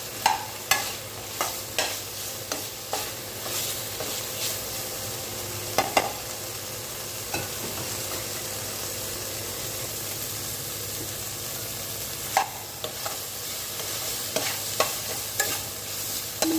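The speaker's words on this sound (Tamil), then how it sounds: "வெங்காயம் காலிஃப்ளவர் போட்டு குழம்பு மிளகாய் போட்டு வறுத்துட்டு இருக்கோம்" Cauliflower, onion and chilli frying in a pan, a steady low sizzle broken by repeated scraping and clinking strokes of a spoon stirring throughout.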